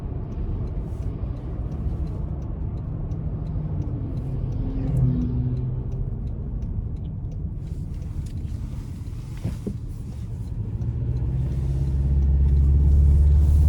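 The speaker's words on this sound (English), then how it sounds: "coming down this rough patch of road, this is what really dictates how suspension is going to be" A 2025 Toyota Tacoma TRD Off-Road rolls over a rough patch of road, giving a continuous low cabin rumble with faint knocks and rattles that swells louder toward the end.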